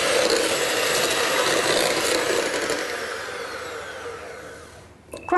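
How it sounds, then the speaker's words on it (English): Caster sugar, vanilla extract and other cupcake ingredients being mixed together for red velvet cupcakes, a steady scraping, rubbing churn that fades gradually toward the end, with no talk. "So I'm just going to mix these four ingredients together."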